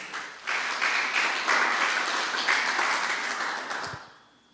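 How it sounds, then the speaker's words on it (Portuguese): Church congregation applauding, a dense, steady wash of many hands clapping at moderate distance for several seconds before tapering off. "Vamos aplaudir a Jesus."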